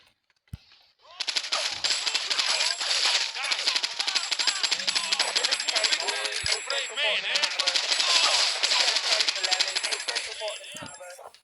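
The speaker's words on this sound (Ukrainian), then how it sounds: "і всіх розстрілюємо на ходу." Sustained rapid machine-gun fire from an Uzi in GTA III, dense and loud, with an explosion-like boom near the end as the gunfire runs on almost continuously for about ten seconds.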